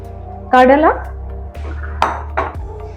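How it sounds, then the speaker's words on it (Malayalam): A spoon stirs chickpea curry with ghee in a metal pot, making a few bright clinks and scrapes against the pot, with a voice briefly heard between them. "നമ്മൾ ഒന്നും കൂടെ ഇളക്കി കൊടുക്കണം."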